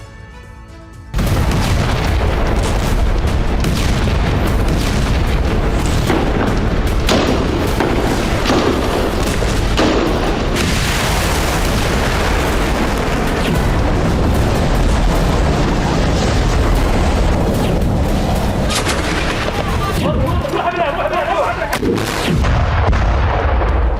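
Explosions from air strikes on Gaza boom in a loud, dense barrage with repeated blasts and rumbling, continuous for most of the stretch.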